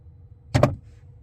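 The glovebox of a Tesla Model 3 Highland pops open on voice command, giving a quick double mechanical clunk, two close thuds in a quiet car interior with no talking.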